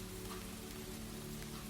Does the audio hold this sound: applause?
no